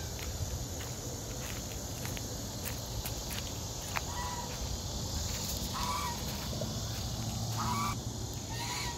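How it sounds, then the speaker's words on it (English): A lone goose honks at a farm in Jacksonville, Florida, a few short nasal calls over steady outdoor background noise with insects and light footsteps. "So we've got this goose all by herself."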